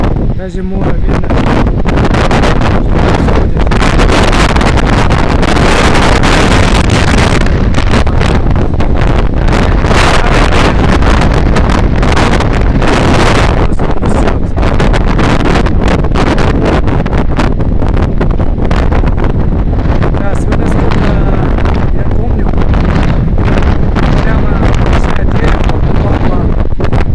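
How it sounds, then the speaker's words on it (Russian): Very strong hurricane-force wind in the seaside city of Novorossiysk, buffeting the microphone with a loud, continuous roar and gusting rumble that never lets up, any voices buried under it. "ветер очень сильный, друзья."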